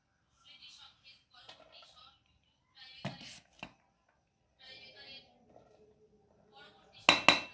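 Cutlery and dishes clink sharply a few times while fried rice and chili chicken are served, with a bright metallic clatter near the end, between stretches of soft speech.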